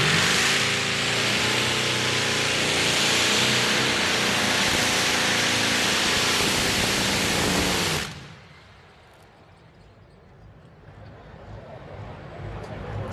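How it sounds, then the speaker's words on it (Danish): A pulling tractor's huge Rolls-Royce Griffon aero engine roars at full power for about eight seconds at a tractor pulling event in Brande, Denmark, then cuts out abruptly, leaving a quiet outdoor murmur that slowly swells. "Den store Rolls-Royce Griffon får de lov at køre et træk uden for konkurrencen."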